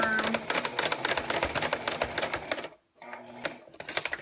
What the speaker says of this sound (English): I'm gonna give myself a back stitch here, just to really hold that zipper firm.